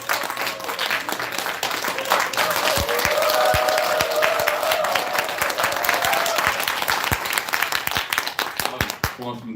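An audience at an indoor business meeting applauds to welcome guests, including someone dressed as Santa, with sustained clapping from a crowd that fades toward the end. Individual sharp claps stand out near the microphone.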